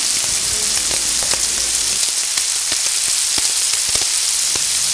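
A close, loud and even sizzle comes from carrot, potato, and green and red bell pepper sautéing in a pan for liver stew, with small pops and crackles and no talking.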